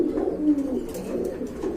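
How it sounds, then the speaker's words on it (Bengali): A pair of Homa pigeons cooing up close, a continuous soft, throaty warble rolling on without pause for the short stretch. "এখানে দেখতে পাচ্ছেন এক জোড়া হুমা কবুতর রয়েছে"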